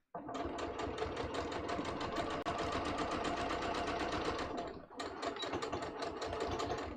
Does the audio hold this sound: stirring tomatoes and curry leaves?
no